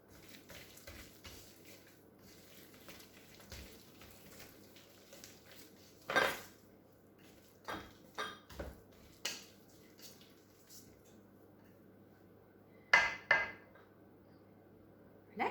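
Scattered soft clinks and scrapes from a bowl of salmon cannelé batter being stirred with chives, a few sharper knocks standing out against a quiet room.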